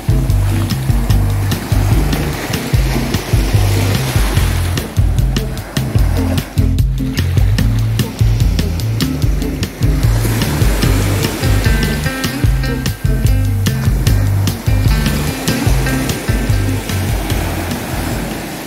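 Rough, churning ocean surf at a Puerto Vallarta beach in rainy weather, a loud continuous roar with rolling wave crashes throughout and no speech.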